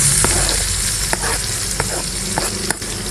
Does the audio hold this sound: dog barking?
no